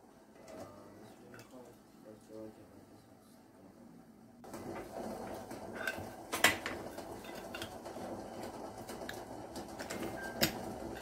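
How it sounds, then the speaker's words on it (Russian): Metal lids being screwed onto glass jars of pickled cucumbers, freshly taken from boiling water, heard as scattered clinks and scraping knocks of metal on glass in a kitchen, a couple of sharper taps standing out, with quiet talking under them. "Хорошенечко закрываем и переворачиваем"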